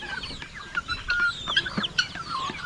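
Chickens cluck and squawk in quick irregular bursts, several birds close by at a provincial farm, loud and busy with no talk.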